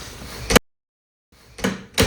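A closet sliding door in a Japanese room, heard as a brief close swish and bump, a pause of silence, then further sliding rumbles and a knock, fairly loud.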